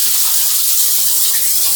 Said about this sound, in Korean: 물을 틀고 좀 씻어내면서